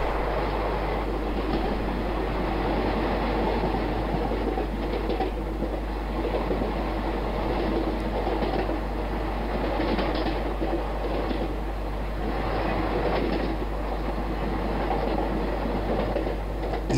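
A simulated Karnataka Express train rolls along the track on the Khandesh route in Microsoft Train Simulator / Open Rails, a continuous rumbling run with a low steady drone and soft rhythmic wheel clatter, unchanging in level for the whole stretch.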